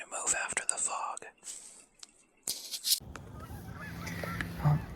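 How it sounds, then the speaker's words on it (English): Geese honk in the distance over quiet outdoor ambience, with soft hisses and a few faint clicks. "Got some geese flying over."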